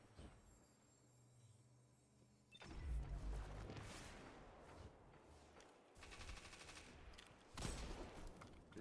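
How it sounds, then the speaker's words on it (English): Shotgun blasts and other weapon fire in Destiny gameplay, a few loud, sharp booming shots over a busy background of combat noise. "Shotgun finishes him off."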